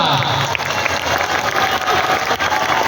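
A large crowd claps at a political rally in Bihar, a dense, steady wash of applause that stays loud and close throughout, with voices mixed into the noise.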